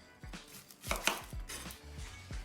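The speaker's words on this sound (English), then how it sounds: "Next I have 1 medium onion that I'm going to dice" A knife dicing a medium onion on a cutting board, with quick, crisp chops in an uneven rhythm, close and clear, with no talking.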